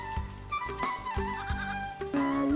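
Goats bleating inside a farm pen holding about 110 does and kids, several loud, wavering bleats overlapping in quick succession.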